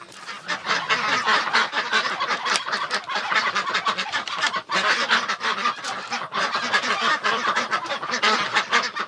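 Young ducks let out of their coop, a constant close chorus of honking, quacking calls from many birds at once, busy and overlapping throughout with no talking.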